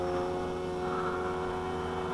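A nitro-powered P-51 Mustang RC model plane engine drones steadily and loudly with a buzzing, harmonic-rich tone, heard close by and without a break.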